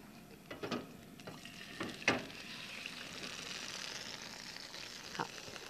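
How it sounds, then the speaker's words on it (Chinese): Chicken legs pan-frying in a hot wok at a home cooking demonstration: a soft, steady sizzle with a few sharp clatters and taps near the start and one later, at moderate volume with no talk. "哦，现在这个锅子热了，我们把这个鸡腿呢来给它煎一下。"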